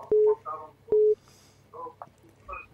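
An incoming call on a radio studio phone line gives two short, clear electronic ring tones about a second apart, with faint speech-like murmurs between and after them.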